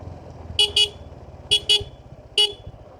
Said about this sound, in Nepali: यस्तोमा चाहिँ अलि हर्न बजारै हिँडेको राम्रो हुन्छ